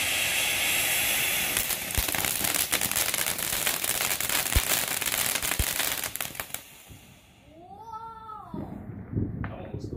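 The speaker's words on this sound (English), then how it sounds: "that was it for our fireworks" Small fireworks crackle and pop in sharp bursts over a hissing sparkle for several seconds, then die away, after which a cat meows and a voice speaks nearby.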